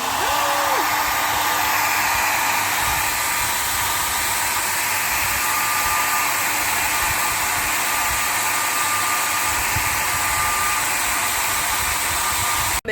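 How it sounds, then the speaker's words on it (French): A hair dryer blows steadily on soaked clothes indoors during a tropical cyclone on Réunion, a loud continuous whooshing hiss lasting throughout. "Merci Sylvain de nous avoir prêté le sèche-cheveux"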